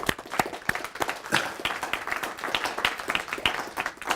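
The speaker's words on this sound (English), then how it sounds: "So please give everyone a round of applause" Audience applause at a university launch event, a smaller crowd giving sharp, distinct individual claps in an uneven patter, fairly close, with faint voices mixed in.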